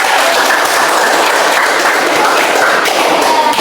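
A classroom of children clap their hands together in a loud, dense, steady burst of applause that fills the whole stretch without pause.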